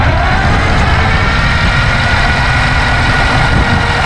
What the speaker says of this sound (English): Not since 1995, folks, has that motor turned over at all.